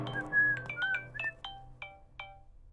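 A telephone ringtone sounds as a call is placed, a quiet melodic series of bright electronic chirps in a rising and falling pattern, with soft background hum.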